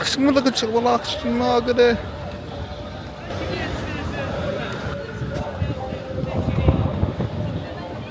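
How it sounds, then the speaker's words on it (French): Wind rumbles and buffets the microphone in a steady low roar outdoors in Morocco, with a few voices and clatter early on. "J'en ai marre du vent là, moi."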